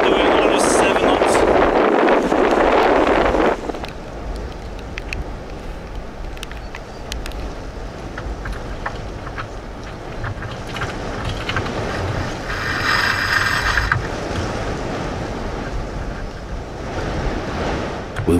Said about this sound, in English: It's good wind today.